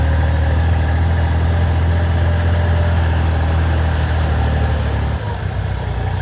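A tractor engine, roughly a 100-horsepower model, idles steadily close by with a deep continuous rumble and vibration, the loudness dropping slightly near the end.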